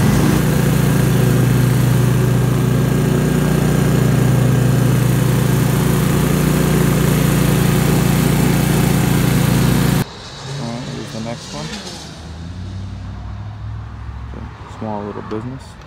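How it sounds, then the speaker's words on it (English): A stand-on lawn mower runs loud and steady in the opening ten seconds. Its engine drone then drops to a lower, quieter level, with someone talking over it. "Now instead of push mowing, I can use the stander."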